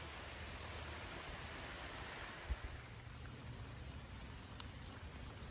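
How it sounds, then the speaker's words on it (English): Soft, steady rain patters outdoors during a delay at a shooting range, a faint even hiss of drops with one small tap near the middle and no voices. "Sit tight, folks. We got a rain delay."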